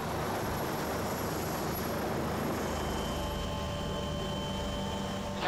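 A rescue helicopter near Zermatt heading for a landing site makes a steady rotor drone that fills the air, loud and continuous with a rushing engine hum and no voices.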